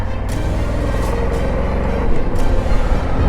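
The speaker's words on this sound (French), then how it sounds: "Je vais attendre qu'il y ait une voiture qui passe." A car rumbles past close by on a roadside in the Pyrenees, a loud low engine roar that swells toward the end, with brief hissing bursts along the way.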